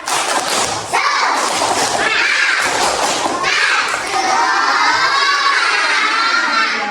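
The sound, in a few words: schoolchildren doing the tepuk semangat clapping chant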